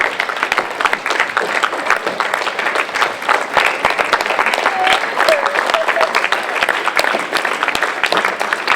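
A theatre audience in Riva Ligure applauds as the cast takes its bows, sustained, even clapping from a full crowd that fills the whole stretch without letting up, with a faint voice briefly audible underneath.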